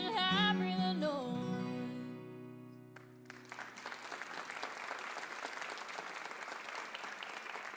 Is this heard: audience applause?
yes